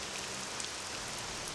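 Steady in-game rain from the Morrowind video game hisses evenly and faintly as a broadband wash, with no voices over it.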